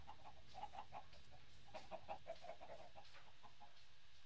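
Chickens in the Minecraft Tekkit video game cluck softly in two short bursts of quick repeated clucks, faint and with no talk over them.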